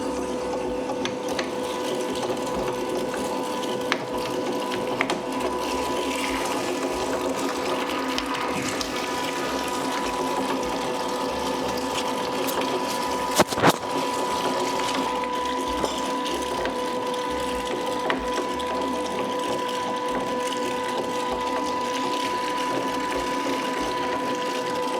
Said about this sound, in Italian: Allora io comincio a macinare.